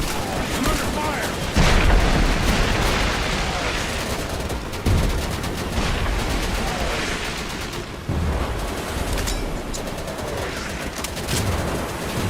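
Gunfire rolls through a battle in the video game Easy Red 2: repeated shots and bursts of automatic fire with booming impacts, dense and continuous, with a player's voice talking over it.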